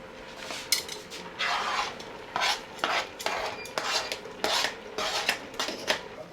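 Green seasoning, onions, pimento, garlic and hot pepper go into a pot of coo coo pois in a Trinidad kitchen, with metal spoon scrapes, clinks and stirring in uneven bursts, close up and moderately loud.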